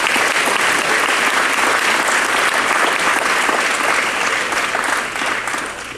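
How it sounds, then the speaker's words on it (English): A packed audience gives the top 20 graduates of East Hartford High School a long, dense round of applause at an evening celebration, steady and loud throughout before tapering slightly at the end. "Let's give our top 20 a round of applause."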